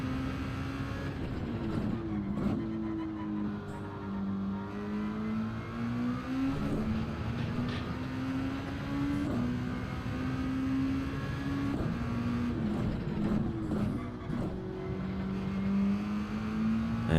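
Race car engine in Gran Turismo during an online streamers' race, droning continuously and rising and falling in pitch as the driver lifts and reapplies throttle through corners, loud and close for the whole stretch.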